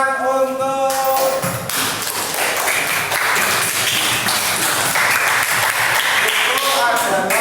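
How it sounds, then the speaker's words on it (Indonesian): A classroom applauds, with a burst of clapping from many students that fills the room and goes on steadily for several seconds, mixed with thumps and taps. Voices talk briefly at the very start. "Oke, kita tepuk tangan untuk"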